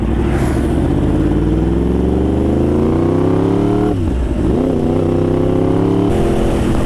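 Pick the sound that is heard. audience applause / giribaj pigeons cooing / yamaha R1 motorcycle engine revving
yamaha R1 motorcycle engine revving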